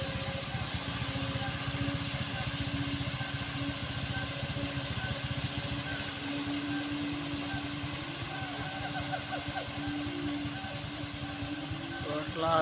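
A Colt Diesel truck labours up a steep hill, its diesel engine throbbing in a steady, rough pulse close by, with a faint chirpy rattle near the end.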